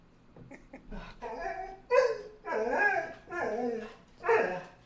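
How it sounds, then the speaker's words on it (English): Excited basset hounds barking, yipping and whimpering up close in a series of drawn-out, howling bursts, loud and clear with no talk over them. "See, we got dogs getting amped up here."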